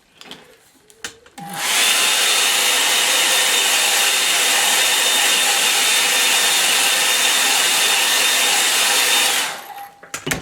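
Close, loud hair dryer drying acrylic paint on a painting, switched on for about eight seconds with a steady whooshing roar and faint whine, then switched off, with brief handling noises before and after.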